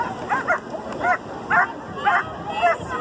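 A dog barks and yips in quick bursts, about five or six times in a steady rhythm, fairly close.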